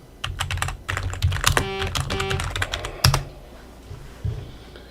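Rapid keystrokes clatter on a computer keyboard, close and crisp, in irregular bursts with a short pause near the end.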